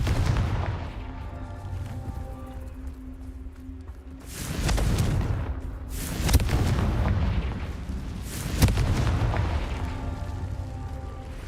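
The Confringo blasting spell in Hogwarts Legacy sets off heavy, rumbling explosions, with two sharp booms that swell and roll away over a steady low background roar.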